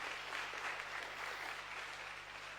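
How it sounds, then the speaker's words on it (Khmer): Steady applause from an audience at a Cambodian SME business accelerator demo day, a dense even wash of clapping held throughout with no talk over it. "សូមសម្លេងទះដៃ ថ្លែងអំណរគុណដល់ពួកគាត់ផងដែរ"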